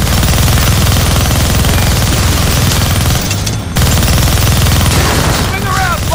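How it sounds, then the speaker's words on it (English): A minigun roars in a long unbroken burst in the Deadpool video game, loud and dense, with a brief gap before firing resumes. "Gonna need both hands to shoot that minigun"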